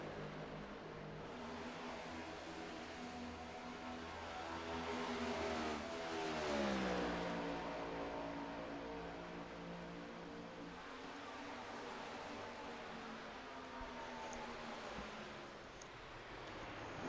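Race car engines in a racing video game at Indianapolis Motor Speedway, a steady droning whine that swells and falls as a car accelerates past around the middle, continuous with no talk.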